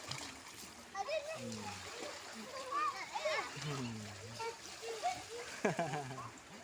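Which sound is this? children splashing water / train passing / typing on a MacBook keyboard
children splashing water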